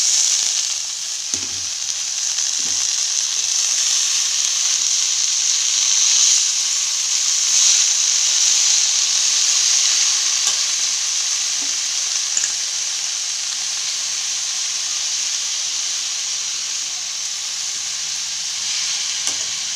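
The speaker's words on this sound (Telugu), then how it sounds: "పచ్చిమిరపకాయల ముద్ద వేసుకుందాం కాస్తంత అందులోకి ఆకేసి బాగా మిక్స్ చేసుకోవాలి" Ponaganti leaves with green chili paste hiss and sizzle loudly in a pan for a long stretch, with a few faint stirring knocks early on.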